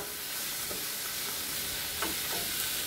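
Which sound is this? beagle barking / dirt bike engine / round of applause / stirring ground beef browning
stirring ground beef browning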